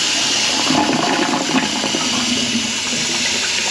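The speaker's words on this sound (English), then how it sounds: "Let's give it a flush." A toilet flushing after its ball valve was repaired, the water rushing steadily and loudly from start to finish, close by and with no talk.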